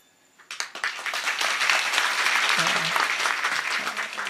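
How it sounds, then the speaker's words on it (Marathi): An audience at a Marathi kirtan breaks into loud, sustained applause after a brief quiet start, many hands clapping densely and evenly until the end. "टाळ्यांचा जर आवाज झाला तर 2 किलोमीटर गेला पाहिजे"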